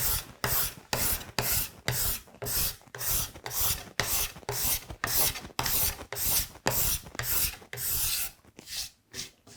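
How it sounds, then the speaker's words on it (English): A hand tool shaves wood for a serpentine chest of drawers in quick, rhythmic strokes, each a close, rasping swish separated by short pauses, repeated steadily about twenty times. "And we're making shavings again."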